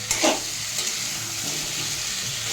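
Chicken frying in a pan with ground black pepper in a home kitchen, giving a steady soft sizzle with a brief stir near the start, close and moderately quiet with no talk.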